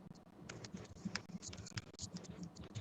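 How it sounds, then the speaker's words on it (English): Rapid, uneven clicking of keys on a computer keyboard, close and fairly quiet, with irregular bursts of keystrokes and no talking. "I hear you typing."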